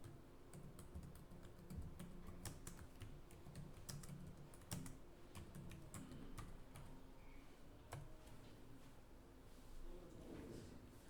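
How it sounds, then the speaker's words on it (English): Someone types on a computer keyboard at a call-centre desk, a quiet, uneven patter of key clicks with short pauses, close by and alone. "I'm just typing as the customer was very interested about the product."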